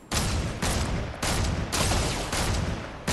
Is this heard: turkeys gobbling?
no